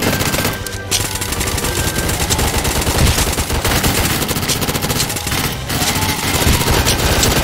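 Rapid automatic pulse rifle fire rattles in Roblox Zombie Uprising. The loud bursts run almost without a break, with a brief pause near the start, and there is no talking.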